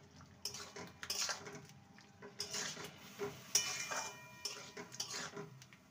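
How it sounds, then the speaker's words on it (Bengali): A spoon stirs ground poppy seed paste into boiled potatoes in a pan for a vegetarian hand-mashed flat bean dish, giving repeated close scraping and clinking strokes with a faint sizzle, no voices. "এবারে যে পোস্তটা বেটে রেখেছিলাম সেটা দিয়ে দেবো, ভালো করে মিশিয়ে নেব।"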